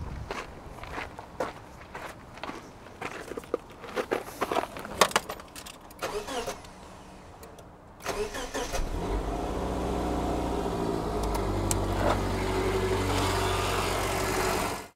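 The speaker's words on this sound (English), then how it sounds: "I can just run the engine though, but that's gonna be noisy." Footsteps and jangling keys come first, then a car engine cranks, catches and settles into a steady, close idle.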